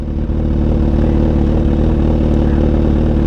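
A 2008 Suzuki GSX-R 1000 motorcycle with an aftermarket exhaust idles steadily, a loud, deep, throbbing burble that stays constant and close for the whole stretch.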